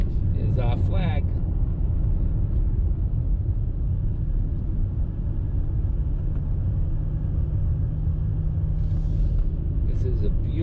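A 550 hp Italian SUV engine hums in a steady, low drone while driving, under near-constant talk, with a few brief higher chirps at the start and near the end.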